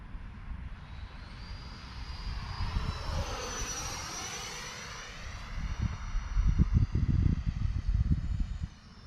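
An Arrows RC Marlin 64mm model jet with its landing flaps down passes overhead, its high electric ducted-fan whine sweeping and shifting in pitch, while wind buffets the microphone.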